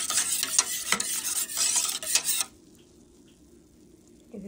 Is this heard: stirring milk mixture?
yes